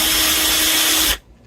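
A Bosch power tool worked on a guitar runs at full speed with a loud continuous whine, then cuts off abruptly just before the end.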